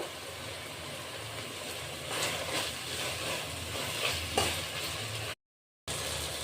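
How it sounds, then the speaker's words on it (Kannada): Mint and coriander leaves fry in a pan for a kushka rice dish, giving a steady soft sizzle with a few light stirring scrapes, faint and continuous, then a brief silence before the sizzling resumes. "ಪುದೀನನು ಕೊತ್ತಂಬರಿ ಸೊಪ್ಪು ಚೆನ್ನಾಗಿ ಫ್ರೈ ಆಗಿದೆ"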